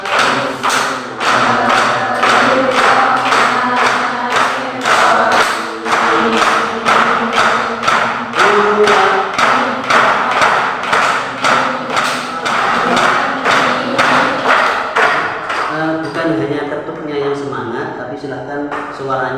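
Rapid regular knocking taps on a board, dozens of sharp evenly spaced thuds rapping along steadily, with voices speaking and calling out throughout.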